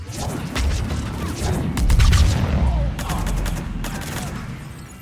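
Bursts of rapid gunfire ring out in a Mass Effect 3 combat scene, with repeated sharp cracks and clattering volleys layered over a low rumble, loud and continuous throughout.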